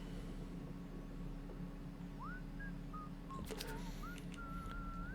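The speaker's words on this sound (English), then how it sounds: "I hear you whistling out there" Faint whistled notes from a character in the game Atomfall, short rising and sliding tones scattered over a low steady background hum, distant and soft.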